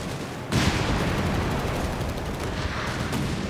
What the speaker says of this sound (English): The artillery being called in.